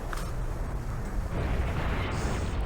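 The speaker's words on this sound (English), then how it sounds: "I love explosions." Explosive blasts from the Naruto Shippuden Ultimate Ninja Storm 4 fighting video game, a dense, continuous rumbling roar that stays loud throughout with a swelling burst near the end.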